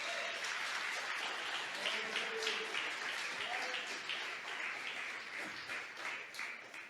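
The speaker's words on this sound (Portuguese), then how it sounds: "Você pode aplaudir o nome do Senhor Jesus?" A church congregation applauds during a worship service, a steady wash of many hands clapping at moderate distance, fairly quiet, with faint voices and a low hum beneath.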